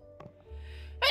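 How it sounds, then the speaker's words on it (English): A single human sneeze bursts out abruptly at the end, sharp and close, after a quiet moment with faint game music and a brief intake of breath. "Okay. I sneezed."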